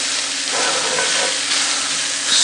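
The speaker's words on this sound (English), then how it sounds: "the sausage is already a cooked sausage, which means we're really just trying to sear it off and get some nice color to it" Cooked sausage and bell peppers sear loudly in a hot pan, a steady, dense sizzle with stirring that holds close and even throughout, swelling slightly at the end.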